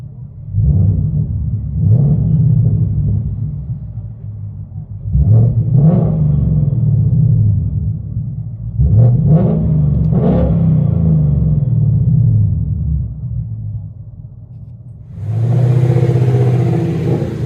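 A 2019 Ford Mustang GT 5.0 V8 with dual exhaust and Dynomax Race Bullet mufflers, heard from inside the car, deep rumbling revs rising and falling several times, then a louder surge of acceleration near the end.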